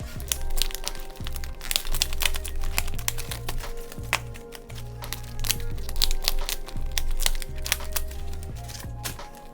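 Cash envelopes being pushed into a wallet, producing close, busy crinkling and papery rustling with crackly scrapes throughout, alone and fairly loud.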